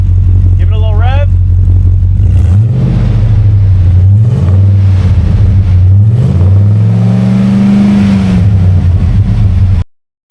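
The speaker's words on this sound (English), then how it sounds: "Give it a little rev." The V8 engine of a restored 2004 Roadtrek 190 camper van idles loud and close. It is blipped through several rising and falling revs, with a brief voice early on, and then cuts off abruptly at the end.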